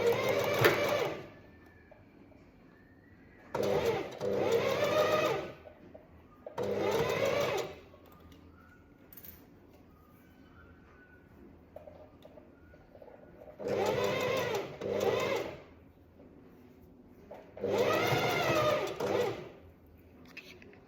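A sewing machine stitches lace onto a garment in five bursts of rapid mechanical whirring, each lasting one to two seconds, separated by quiet pauses with faint handling.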